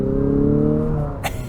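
A 2023 Infiniti QX50 engine revs hard under full-throttle acceleration, a steady rising harmonic drone close up inside the cabin, with a brief burst of wind or road noise near the end.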